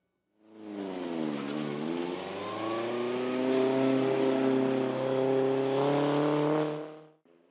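A car's engine revs and accelerates hard during a Thunder Bay Auto Sports Club autocross race through cones in a parking lot, a sustained loud rising-and-holding drone with a steady pitch climb, close by and uninterrupted.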